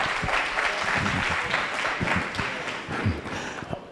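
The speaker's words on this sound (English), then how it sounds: "Another round of applause." A hackathon audience applauds the winners of a gaming hackathon, steady, moderately loud clapping from a room of people that swells and eases over a few seconds, with no talking.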